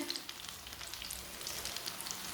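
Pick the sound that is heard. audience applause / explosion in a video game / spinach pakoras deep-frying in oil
spinach pakoras deep-frying in oil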